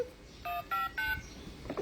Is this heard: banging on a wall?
no